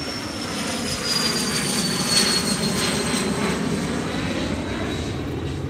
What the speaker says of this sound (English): There's also a plane flying overhead.